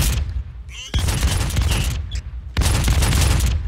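Booming shotgun blasts from a silenced shotgun in the video game Brink, firing in loud bursts with a short gap before another heavy shot near the end, no voices in between.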